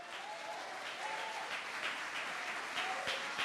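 Congregation applauding the Lord during a church sermon, a dense, sustained roll of many hands clapping together, steady and fairly distant throughout.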